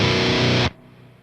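A dense, dark synth chord sounds loudly, then cuts off, leaving a faint, low reverb tail that lingers briefly.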